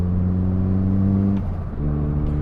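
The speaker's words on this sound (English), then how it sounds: "Oh, the turbo whooshy noise." Nissan Pulsar GTi-R turbo engine droning steadily from inside the cabin, with a brief dip and shift in tone partway through as the turbo whooshes, then the exhaust note resumes.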